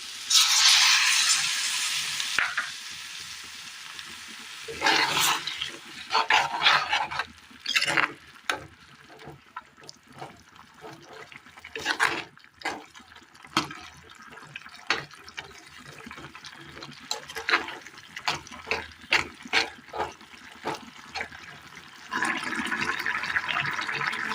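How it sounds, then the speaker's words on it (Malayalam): Water pours and splashes in a few loud bursts, at the start and again near the end, with quieter clinks and movements in between. "ഇനി ഇതിലേക്ക് ഒരു ബൗൾ ചൂടുവെള്ളം ഒഴിച്ചു കൊടുക്കാം"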